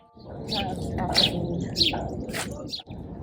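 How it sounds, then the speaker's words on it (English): Birds chirp loudly and repeatedly in bright, high bursts over a person talking in Central Park, their calls nearly drowning out the voice. "the birds were so loud you can't even hear what I'm saying"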